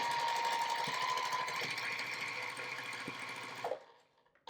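A sewing machine runs steadily while stitching across the edge of a quilt border triangle for a watermelon wall hanging. The whirring hum holds close and continuous for nearly four seconds, then stops abruptly.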